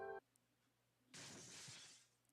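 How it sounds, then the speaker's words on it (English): Glass shattering in a hallway in the game Code Realize, a sudden bright crash of breaking glass after a short tone and a beat of quiet, the debris hiss trailing off over about a second. "I hear the sound of glass shattering in a hallway."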